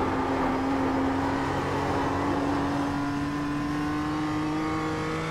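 Race car engine in a racing video game holding a steady high drone that slowly climbs in pitch, loud and constant with no voices over it.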